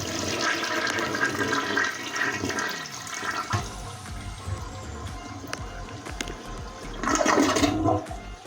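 A toilet flushes with a loud rushing gush of water that swirls and drains, then surges again near the end, close and with no voices.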